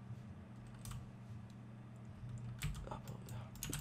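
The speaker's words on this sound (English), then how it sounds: "Sorry if my keyboard is really loud, because I feel like I may be hammering it a bit more." Loud computer keyboard struck hard in fast, uneven bursts of clacking keystrokes, close up over a steady low hum from a gaming setup.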